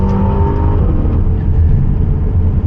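A new Aston Martin SUV's engine revs loudly and close by with a dense, continuous growl that rises and holds for a few seconds, without any talking.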